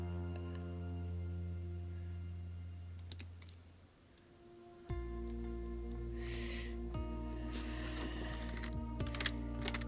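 Computer keyboard keys pressed to control a flight simulator, a few sparse clicks and taps over a steady hum of engine-like drone that shifts partway through, with no talking.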